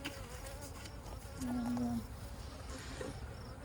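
Honey bees buzz steadily around an open hive during a summer inspection, a close, continuous drone with one brief louder hum, and someone says a word over it.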